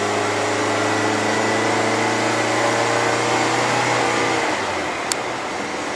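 A Toyota TownAce van's engine accelerates, a steady mid-pitched drone with humming tones that shift as the automatic gearbox kicks down. It is heard from inside the cabin, fairly loud and continuous, and fades slightly near the end.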